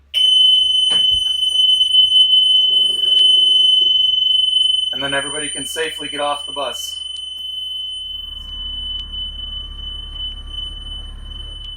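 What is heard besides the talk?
bus emergency exit door alarm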